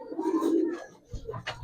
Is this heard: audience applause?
no